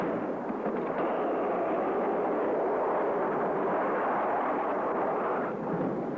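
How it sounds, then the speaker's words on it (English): A radio-drama effect of an airplane buffeted by a hurricane: a steady, loud roar of wind and engine noise that churns continuously for the whole stretch without a break. "Oh, this plane is certainly taking a beating. We must be in a hurricane."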